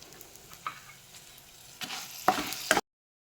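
Coriander seeds, urad dal and dried red chillies fry in a spoonful and a half of oil for onion sambar, a faint crackle that swells into a few louder sizzling bursts before cutting off.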